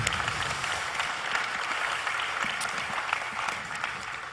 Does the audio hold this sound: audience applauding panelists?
yes